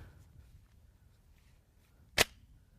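Kel-Tec Sub-2000 rifle action locked open: one sharp, loud metallic snap after a quiet stretch of faint handling noise, close by and alone.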